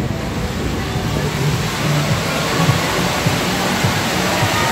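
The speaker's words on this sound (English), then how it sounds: "Headed into the pool area, the water park, indoor." Indoor water park pool area at Wilderness at the Smokies, a dense, loud wash of splashing water and roaring echoing noise, with a faint murmur of distant voices mixed in.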